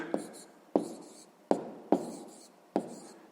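Pen strokes writing a maths answer on paper, five short scratchy bursts at a steady rhythm, close and fairly quiet, with no talk.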